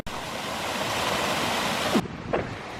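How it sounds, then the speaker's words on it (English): A river rushing steadily nearby in open countryside, a broad continuous roar of flowing water that cuts off abruptly after about two seconds, leaving quieter background. "That's the river."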